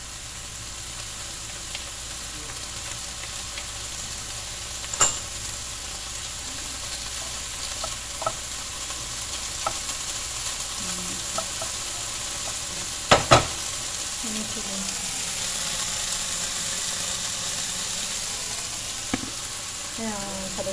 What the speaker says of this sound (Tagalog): Ito ginigisa.